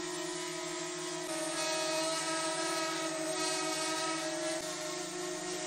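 Small electric motors fitted with mini covers run together in a steady, even whine with a rich harmonic hum, close and constant, shifting pitch slightly partway through.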